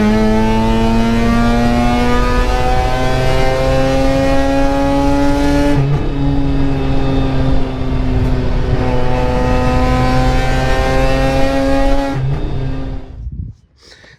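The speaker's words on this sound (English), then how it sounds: "This car is easily the loudest car I've ever owned." A Mazda RX-8 rotary engine with its catalytic converter deleted and a resonator exhaust revs in two long, loud, steady holds close by, with a brief dip between them, then cuts off at the end.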